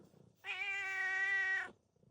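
A single drawn-out cat meow on a hobby farm near a big barn, clear and fairly close, rising sharply and holding a steady tone for over a second before cutting off, with quiet background otherwise.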